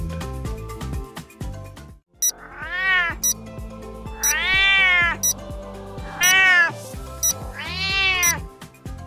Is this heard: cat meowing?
yes